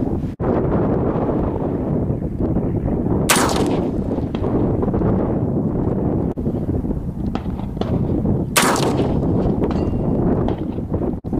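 A .223 rifle firing Wolf full metal jacket steel-case ammunition on an outdoor range, two sharp cracks several seconds apart standing out over steady, heavy wind buffeting.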